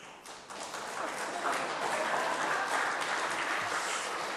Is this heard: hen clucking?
no